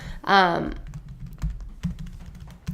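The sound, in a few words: typing on a computer keyboard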